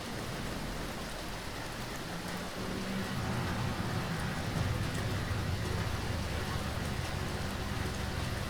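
Steady, loud rain washing over everything in the BeamNG driving game, a dense continuous hiss with a low engine rumble underneath, no talk.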